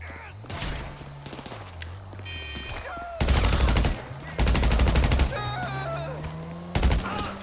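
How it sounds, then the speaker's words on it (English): Gunfire in GTA Online comes in several loud bursts of rapid shots separated by short gaps, with a quieter hum of game sound between them. "They are shooting."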